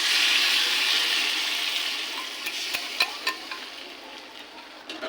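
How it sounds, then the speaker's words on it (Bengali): Lightly fried, pressure-cooked moong dal pours into a pan of cooked fish-head masala, a broad wet rush that fades over a few seconds into scattered soft splats and stirring clicks. "ডালটাকে হালকা ভেজে সিটি মেরে রেখেছি একটা। এবার এটাকে দিয়ে দেবো।"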